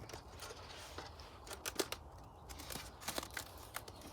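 Black tape is pressed around the outside of an upcycled container to seal a hole for winter sowing, giving faint, scattered crackles and short sticky rips against a quiet background.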